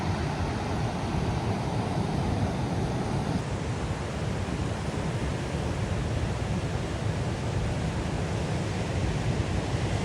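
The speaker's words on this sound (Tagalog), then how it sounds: "Lakas ng alon." Strong sea waves rolling onto a beach, a continuous heavy roar of surf mixed with wind rumble on the microphone, steady and loud throughout with no talk.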